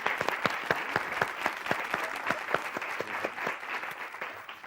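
Studio audience applause on a Spanish television quiz show, a fairly quiet but steady patter of many hands with distinct individual claps standing out, continuing evenly throughout.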